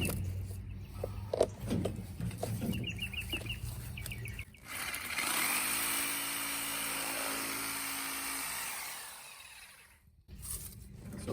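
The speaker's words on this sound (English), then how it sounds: "I'm going to get my reciprocating saw, my Sawzall, in here to cut that" A reciprocating saw (Sawzall) cuts through a plastic gutter downspout pipe, a sustained buzzing run of several seconds after some handling knocks, close and fairly loud, stopping abruptly near the end.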